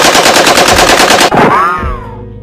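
A rapid burst of machine gun fire rattles for over a second, then cuts off as a descending whistle and rumble fade out.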